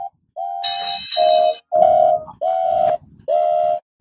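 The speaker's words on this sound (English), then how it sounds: "And Toby rang his bell." A bell or chime on Toby, a tram engine in a Thomas & Friends toy train scene, rings in five bright, steady tones with short gaps between them, loud and clear without speech.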